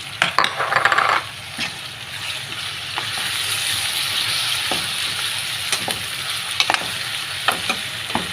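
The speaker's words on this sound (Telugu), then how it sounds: "ఇదైతే పచ్చివాసన పోయినంత వరకు అయితే బాగా వేయించుకోవాలి" Ginger garlic onion paste sizzles steadily in a hot pan, with a few scraping stirs and light clinks of a spoon near the start and end.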